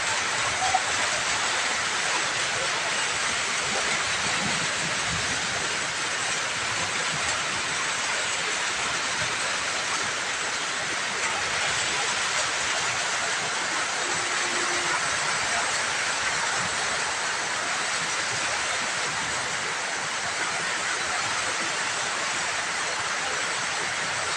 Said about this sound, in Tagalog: lalo kung lumakas ang ulan